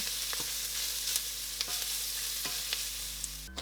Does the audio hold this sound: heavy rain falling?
no